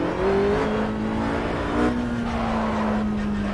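Racing car engine in Project Cars heard from the hood camera, a steady droning hum holding a constant pitch that rises slightly, loud and close with no talk over it.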